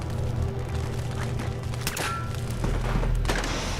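A video game battle with a steady volley of gunfire and thuds over a constant droning game soundtrack, moderately loud and without speech.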